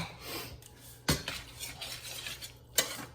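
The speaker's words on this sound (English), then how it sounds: "a little stirring here." A spoon stirring a Mexican chicken skillet with cooked white rice, producing soft scraping and two sharp metallic clanks against the pan, close and quiet with a faint sizzle beneath.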